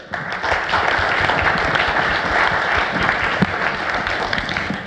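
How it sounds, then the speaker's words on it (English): Steady, dense applause from a conference audience at the Agile Austria Conference 2019, a full room clapping continuously at even loudness for about five seconds with no talk over it. "An applause for her."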